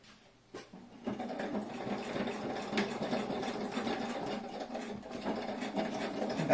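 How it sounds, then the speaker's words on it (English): A sewing machine runs slowly and steadily, stitching through thick layers of a slim wallet. Its even mechanical whir and clatter starts after a brief pause and continues close and moderately loud, with no talking. "We are stitching through a lot of layers. So, put your machine on slow."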